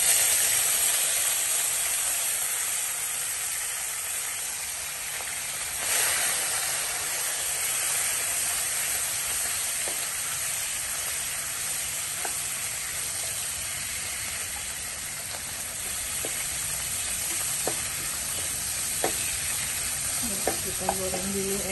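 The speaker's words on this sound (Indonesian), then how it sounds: "pertama-tama kita goreng dulu ebinya ya" Dried shrimp (ebi) frying in a pan of hot oil for a spicy water spinach stir-fry, with a steady broadband sizzle and hiss throughout, occasional stirring scrapes and small pops near the end, close and fairly loud with no talking.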